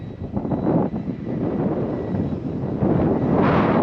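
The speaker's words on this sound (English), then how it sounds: "It is really gusty. Look at it blowing it around." Gusty wind at an RC model airfield buffeting the microphone, a loud continuous low roar with surging gusts that swell and ease throughout, with no voices.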